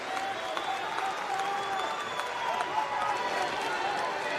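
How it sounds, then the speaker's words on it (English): Wakefield rugby league fans applauding a penalty at a stadium, a dense, sustained crowd clapping with a bright, crackling texture, steady throughout, with commentary voices underneath. "penalty being applauded by the Wakefield fans"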